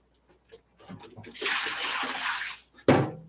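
Water runs and splashes into a kitchen wash basin for a rinse, a steady broadband rush lasting over a second, then a brief louder splash at the end.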